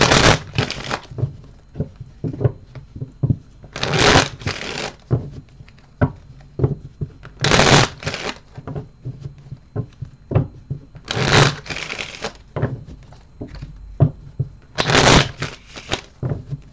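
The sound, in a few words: shuffling tarot cards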